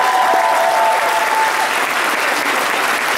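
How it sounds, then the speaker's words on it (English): Audience applause at a convention opening ceremony, a dense, steady burst of clapping from a large crowd lasting the whole short stretch. "And a round of applause for all these guys."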